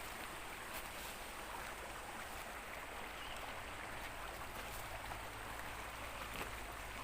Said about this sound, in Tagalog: Tanging maririnig lang po talaga po ninyo dito ay lagaslas po ng tubig.